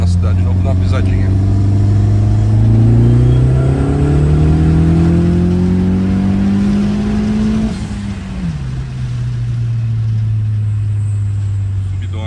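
A Peugeot 208 GT with about 180,000 km accelerates through city streets, the engine rising in a long, loud climb before easing off on an upshift and settling into a steady drone, heard onboard with someone talking.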